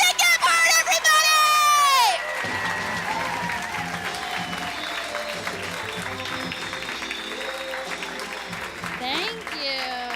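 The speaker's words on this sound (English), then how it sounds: "Let's get a clap going right now for" A comedy club audience applauds and cheers as a comic takes the stage, loud whoops and shouts over a broad wash of clapping that continues steadily, with a voice speaking through the noise.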